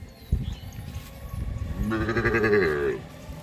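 A Sahiwal bull calf at a cattle market gives a single drawn-out bellow in the middle of the clip, with faint market noise before and after it.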